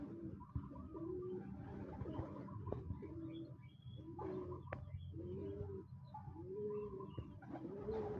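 Racing pigeons coo softly in a repeated rhythmic pattern of low, rolling calls, several birds overlapping in a quiet enclosed space with faint background noise and no talk.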